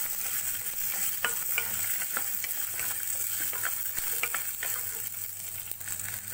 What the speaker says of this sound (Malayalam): ഇതിലേക്ക് 2 വെളുത്തുള്ളി, 1 കഷ്ണം ഇഞ്ചി ആഡ് ചെയ്ത് കൊടുക്കാം. അതും നല്ലതുപോലെ വഴറ്റി കൊടുക്കാം.